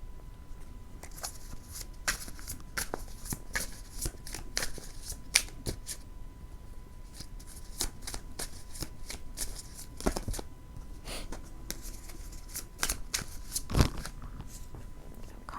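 A deck of tarot cards being shuffled by hand, repeated crisp riffling bursts and flicks at an irregular rhythm, close and clear with quiet pauses between.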